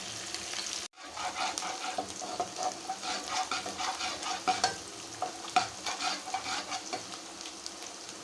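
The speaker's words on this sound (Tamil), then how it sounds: "பாருங்க நல்லா சூடாகிட்டது இப்போ இந்த பூண்டு முதல்ல போடலாம் அப்புறம் இந்த வெங்காயம் பச்சை மிளகு இந்த பொடி பட்டுங்க இதையும் போட்டுக்கலாம்" Garlic, onion and green chilli fry in hot oil for beef fried rice, a steady close sizzle with scraping stir strokes and spoon clinks after a brief silent gap at the start.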